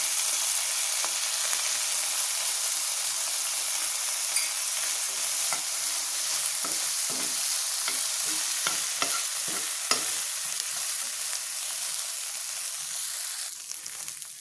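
Okra sautés in a pan with salt and turmeric, giving a constant soft hiss of sizzling broken by brief knocks and scrapes from stirring, close and steady, with no talking.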